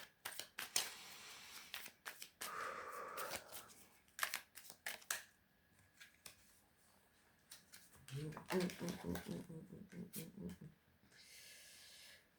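Tarot cards being shuffled close up in quick riffling bursts, with a few sharp taps and breaths between, then a longer run of soft shuffling near the end.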